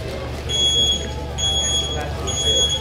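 Three electronic start beeps of a timing device mark a countdown before a race. Each tone is clear and held for about half a second, evenly spaced against steady background noise.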